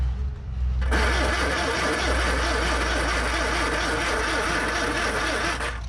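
Classic Ford Corsair 2000E barn-find engine cranking over loudly on the starter in a steady rapid churn for several seconds, close up, without catching.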